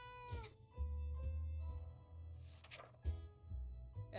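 A cat meows several times in close succession, drawn-out and complaining, near and fairly loud in a quiet room.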